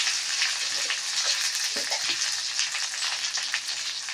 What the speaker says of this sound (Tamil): இதோட சேர்த்து ஒரு தடவை வதக்கிக்கோங்க